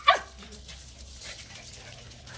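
A small puppy lets out a single short, high yip at the start, followed by faint soft whimpering noises over quiet background.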